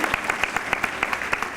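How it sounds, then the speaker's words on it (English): Theme park stunt show audience applauding a stuntwoman, a dense burst of clapping heard up close and loud, with sharp individual claps standing out over the steady patter. "How about a big round of applause for our stuntwoman, Kelly?"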